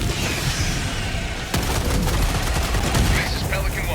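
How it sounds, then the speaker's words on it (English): Orbital strike explosions in Helldivers 2, a heavy blast at the midpoint followed by rapid rumbling detonations and crackling bursts over a constant booming battle din. "Firing orbital strike."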